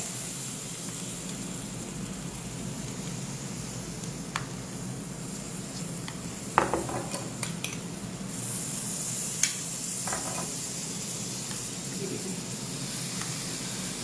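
A chocolate brownie sizzles on a very hot sizzler plate, giving a steady, moderately loud hiss and crackle throughout, with a few sharp clinks and scrapes partway through.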